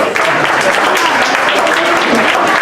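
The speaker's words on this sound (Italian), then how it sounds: "direi un applauso per loro" Loud, close applause from a gala audience, dense and continuous clapping of many hands with a few voices mixed into the din.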